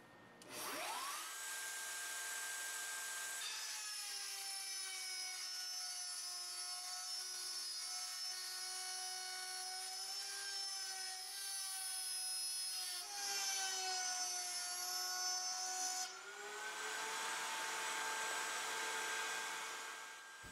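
An electric router cutting a groove in a wooden board for T-slot track, a loud steady high whine that shifts in pitch under load as the bit passes along the wood, without talk.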